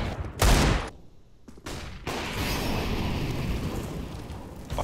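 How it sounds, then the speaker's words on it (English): Gunfire in the video game CS:GO: two loud, close bursts of shots in the first two seconds, followed by a steady wash of game noise that runs to the end and ends with a final sharp report. "Oh, I just got shot. Oh, who just shot me?"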